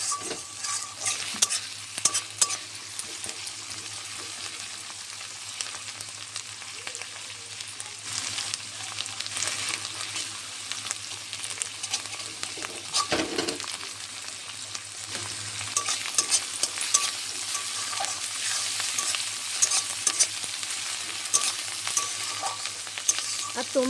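Prawn curry masala sizzling steadily in hot oil in a home kitchen, with a spatula scraping and stirring in an irregular rhythm throughout; close, fairly loud, no talking.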